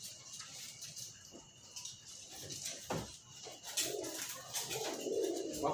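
A racing pigeon coos softly at close range, giving a few low, throaty calls with light rustling and pattering around them. No one speaks.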